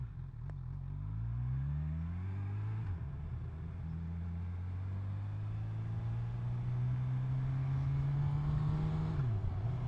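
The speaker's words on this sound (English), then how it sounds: "There you go, more and more bikes." Motorcycles pass along a road in a steady stream of engine drone, with rising and falling revs as each bike goes by, fairly distant and continuous with no talk.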